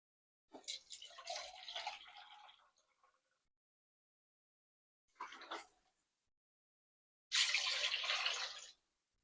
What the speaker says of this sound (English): the next ingredient for soup is water.